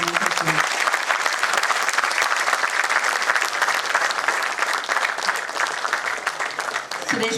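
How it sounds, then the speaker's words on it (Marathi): Loud, sustained applause from an audience at a Marathi book-launch ceremony with lamp lighting, dense continuous clapping filling the room for several seconds before tapering slightly at the end. "दीप प्रज्वलन करून आजच्या प्रभू सर यांना आपण जोरदार टाळ्यांनी आमंत्रित करू."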